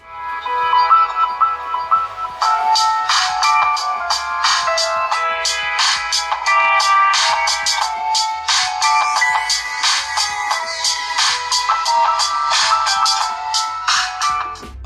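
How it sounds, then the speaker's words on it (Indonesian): A Prince PC828 Plus phone speaker plays a melodic tune, loud and clear with bright tinny tones and a steady rhythm across the whole stretch. "Speakernya juga lumayan kenceng nih."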